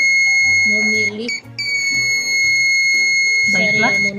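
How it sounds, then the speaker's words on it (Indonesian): An Arduino-controlled buzzer sounds a loud, steady, high electronic tone. It cuts out briefly and then resumes, with faint voices and clatter underneath. "Yang pertama adalah bunyi buzzer tilit-tilit."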